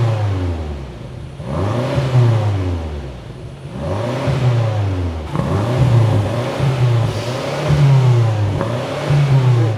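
BMW M5 with stock exhaust revving repeatedly in a series of rising and falling blips, loud and close, each pull sweeping up then dropping back toward a steady idle, no speech.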